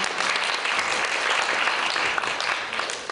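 A large audience applauds the award-winning teams at a university debate tournament final, producing loud, continuous clapping that holds steady throughout.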